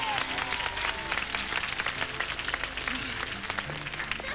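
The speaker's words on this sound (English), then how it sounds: "A big round of applause for our mums" An audience at a 1987 evening show applauds the mums with steady, thick clapping that carries on for several seconds, with faint crowd voices mixed in.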